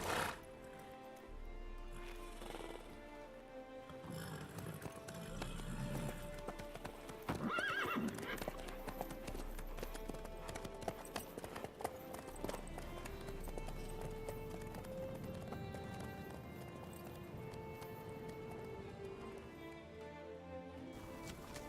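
Horse hooves clip-clopping steadily on the ground in The Witcher 3, with occasional whinnies and a faint voice over a continuous game ambience.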